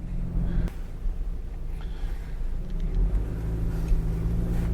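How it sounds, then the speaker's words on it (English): A parked car idles with its motor running on a residential street early in the morning, a steady low rumble with a faint brief click, continuous and nearby. "Another car with the motor running."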